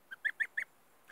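A young goose gives four quick, faint high honking calls in a short evenly spaced burst, followed by a softer fifth call after a brief pause.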